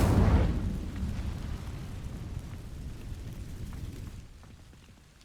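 A fire spell bursts alight in Hogwarts Legacy, igniting dry vines: a loud whooshing flare at the start that settles into a steady crackling burn before fading out.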